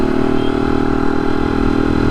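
A motorcycle rides along a foggy road in hilly Karnataka country near Maidady View Point, its engine droning steadily and loud close to the microphone, with no other sounds.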